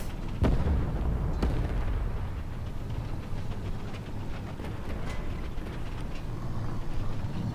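KV-2 tank cannon fire in War Thunder Mobile: two heavy, booming shots close together near the start, followed by continuous low battlefield rumble and scattered distant impacts.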